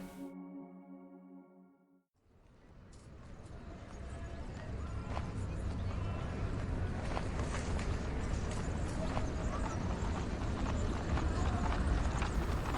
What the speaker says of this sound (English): The sound of hooves clomping down the winding streets bounces off of the brick buildings and glass skyscrapers